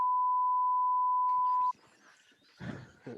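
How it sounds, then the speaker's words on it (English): A steady censor bleep tone holds for nearly two seconds, bleeping out a word in a sports talk show, then cuts off as muffled voices continue. "That's never good to beep out during the sponsor."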